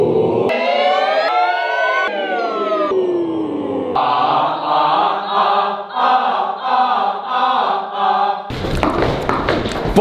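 Voices imitate a siren as a vocal warm-up, singing sliding, wavering tones that rise and fall continuously, close and loud, ending in a burst of breathy noise.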